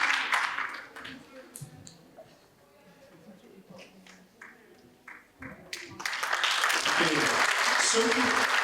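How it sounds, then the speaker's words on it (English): Audience applause for a Grade 7 school band at an arts festival concert, swelling loudly near the end after quieter stretches of talk and scattered noise. "you have to soak in enough applause for the whole band that isn't here right now"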